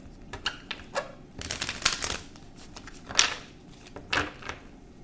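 Tarot cards being shuffled by hand in short papery bursts, several quick riffles and flicks spread across the stretch, close and fairly quiet with no talking.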